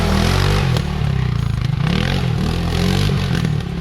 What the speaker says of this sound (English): when you let off the throttle with this thing, it's backfire city